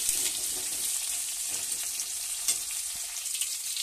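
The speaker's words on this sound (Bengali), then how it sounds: "এবার এই তেলের মধ্যেই বন্ধুরা আলুটা তুলে দিয়েছি, আলুটা ভালো করে ভেজে নেবো।" Potato pieces fry in hot oil while fish, aubergine and drumstick stalks cook for a Bengali curry, giving a steady close sizzle with light crackle and a few stirring bumps, no voices.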